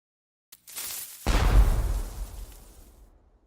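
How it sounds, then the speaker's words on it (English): Game cannon sound effect: a short hissing fuse fizz, then a loud deep boom that rolls off and fades over a couple of seconds, heard alone. "You should hear a fuse kind of fizz, and then boom from the cannon."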